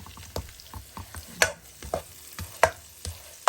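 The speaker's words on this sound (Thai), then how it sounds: "เราจะ เจียวกระเทียมให้หอมก่อนนะ" Garlic frying in butter in a pan, a steady low sizzle broken by irregular soft scrapes and clicks of stirring, close up with no voices.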